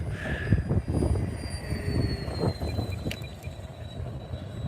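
Small airplane in flight, likened to a Cessna, with an engine drone carrying steadily under strong wind noise and no voices.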